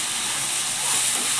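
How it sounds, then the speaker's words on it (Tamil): Prawns sizzling in hot oil with onion and ginger-garlic paste, a steady close broadband hiss and crackle running without a break and no voices. "கழுவி க்ளீன் பண்ணி வச்சுருக்கிற இறாவை அதில் போட்டு நல்லா வதக்கணும்."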